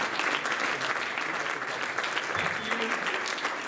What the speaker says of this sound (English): give them a hearty applause